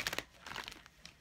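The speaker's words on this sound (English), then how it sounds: "y'all see me shuffling them" Quick riffling and crisp slapping of tarot cards being shuffled up close, a few short bursts of flicking.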